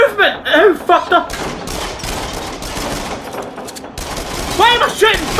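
Gunfire in the VR shooter game Until Dawn: Rush of Blood, a dense rapid fusillade of shots running through the middle with eerie wailing creature or voice sounds at the start and end.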